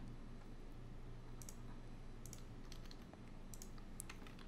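Keys on a computer keyboard tap faintly in a few small clusters of quick clicks, set against a steady low background hum.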